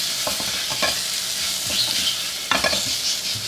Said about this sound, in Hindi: देखें ये हमारे प्याज हो गए। इसमें अदरक लहसुन का पेस्ट डालेंगे।